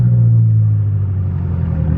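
BMW F10 M5 exhaust while driving at low speed, a deep steady droning rumble, loud and close inside the car, with no talk.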